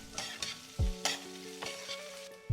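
Sliced onions sauté in ghee with spices, a gentle sizzle punctuated by rhythmic stirring scrapes and a few low knocks of a spoon against the pan, quiet and close with no talk.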